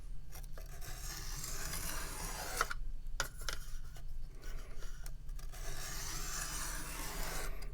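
A knife is stroked across a 600-grit stone in a budget QSP sharpening system, making repeated close rasping scrapes with short pauses between strokes at a fairly quiet level.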